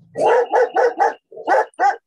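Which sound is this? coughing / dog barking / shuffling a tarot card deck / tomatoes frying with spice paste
dog barking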